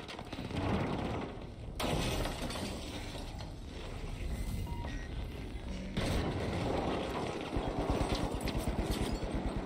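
Gunfire in the video game The Finals rattles in rapid bursts and clattering volleys, fairly faint and mixed with mechanical clicks and impacts, ending in a quick rhythmic string of shots.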